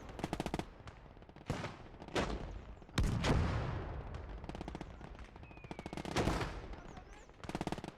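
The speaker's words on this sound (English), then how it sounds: "my sniper is already in position and opening fire" Gunfire in the Gates of Hell PvP Stalingrad battle game: sharp sniper shots and bursts of machine-gun fire crack at uneven intervals, with a few heavier blasts echoing between them.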